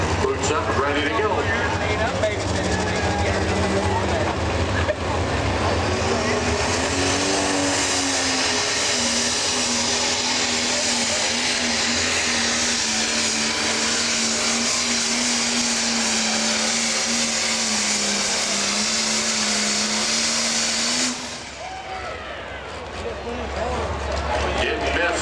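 A pro stock pulling tractor engine roars steadily and loudly at an outdoor NTPA pulling event in Tomah, Wisconsin, droning down the track for about twenty seconds before easing off.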